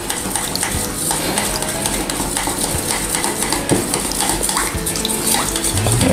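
A spoon stirs sweet chili sauce of water, chicken powder and rice vinegar in a bowl, with steady clinking and swishing scrapes over running water, close and loud throughout.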